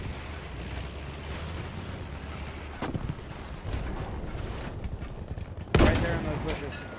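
Gunfire in a video game with tanks: sharp shot bursts crack out near the middle and again, louder, toward the end, over a continuous rumbling battle background.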